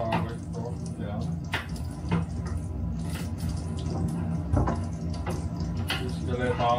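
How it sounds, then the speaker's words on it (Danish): Kitchen tap water runs steadily into a sink, a continuous splashing hiss with scattered clinks and drips, close by and moderately quiet. "Jeg skal lade bare vandet løbe nu."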